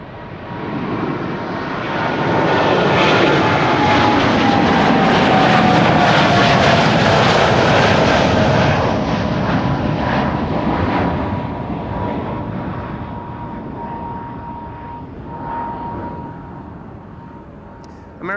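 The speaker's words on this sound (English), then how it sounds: "American Airlines Flight 203 on its way to Philadelphia, Pennsylvania." An American Airlines jet airliner at Amsterdam Schiphol Airport, a loud engine roar that swells, holds steady and then slowly fades as the aircraft passes.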